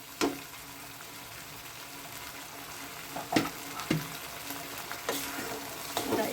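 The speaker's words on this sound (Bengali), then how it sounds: "এটা একটু হালকা করে কষিয়ে নেব, যাতে পেঁয়াজ রসুন এবং আদার কাঁচা গন্ধটা চলে যায়।" Onion, garlic and ginger sauté in a pan for Malabar paneer, a quiet steady sizzle broken by a few sharp clinks and scrapes of stirring, no talk.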